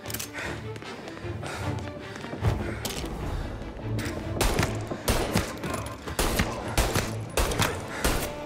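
Repeated gunshots ring out in a shootout in the video game Mafia: Definitive Edition, sharp cracks landing in irregular bursts over a dense, steady bed of game noise.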